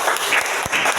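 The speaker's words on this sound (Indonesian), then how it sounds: "beri tepuk tangan untuk kelompok 4." A brief burst of classroom applause for a group of primary school students, quick dense clapping from many hands, loud and close, lasting only a moment.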